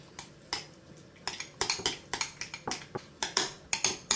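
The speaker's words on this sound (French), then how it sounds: "Et on va venir mélanger tout ça." Herbs, parsley, coriander and salt are stirred in a bowl for an amuse-bouche filling, with a utensil scraping and clinking against the bowl in a steady run of short, close taps and scrapes, with no voices.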